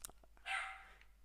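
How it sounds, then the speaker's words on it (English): One brief dog bark rings out indoors, fairly faint and slightly distant, standing out over a quiet background of small clicks and low hum. "My dog's barking!"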